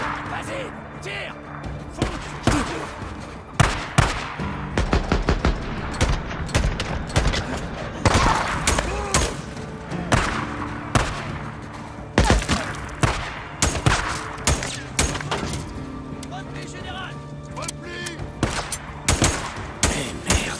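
Gunfire in the Days Gone video game, repeated loud shots in irregular bursts over a busy game soundscape, with someone talking at times.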